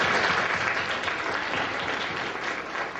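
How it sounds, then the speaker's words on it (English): A crowd at a 2007 United We Walk community event gives school staff a round of applause, with loud, dense clapping that continues steadily throughout. "Let's give them a round of applause for making this possible."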